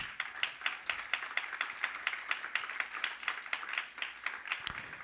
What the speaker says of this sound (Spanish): Pues dale palmas si lo crees